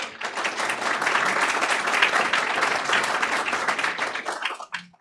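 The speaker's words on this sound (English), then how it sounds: "Thank you, Mrs. Slater, and let's give a big round of applause to Turner family." A crowd applauds warmly at a school board meeting, dense clapping holding steady for several seconds before fading out near the end.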